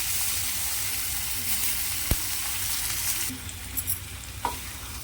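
Whole tomato roasting directly over a high gas flame, a steady broadband crackle and sizzle filling the clip, with a faint click and a couple of small pops near the end.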